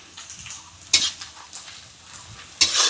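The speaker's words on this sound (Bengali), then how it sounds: "এই আদা দিলেই শুরু হয়ে গেছে ফটফট।" Onion and ginger fry in a pan with a soft crackling sizzle, cut by two loud scraping strokes of a spatula against the pan about a second and a half apart.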